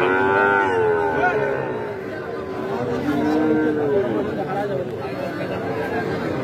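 Small local bulls at a busy cattle market near Boda, Panchagarh, give several low, drawn-out moos amid crowd chatter and nearby talking.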